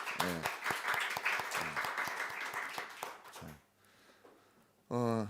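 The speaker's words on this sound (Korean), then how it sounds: "박수 한번 보냅니다" A church congregation at a Sunday service claps for a few seconds while someone speaks over it, then the clapping fades out and his voice continues alone.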